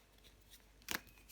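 Tarot cards being drawn and laid out on a table, heard as a single brief, crisp card snap near the end of an otherwise quiet stretch.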